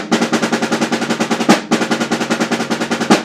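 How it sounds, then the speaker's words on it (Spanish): Drumsticks play a fast sticking pattern on a snare drum: dense, evenly spaced strokes in a steady rhythm with two louder accented hits, close and loud with no talking. "¿Lo puedes hacer en tu tarola?"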